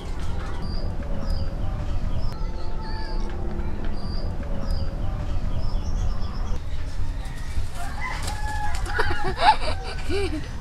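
Native Bisaya chickens clucking outdoors at a cooking spot, with brief faint calls early on and a rooster crowing loudly near the end over steady background noise; voices are heard.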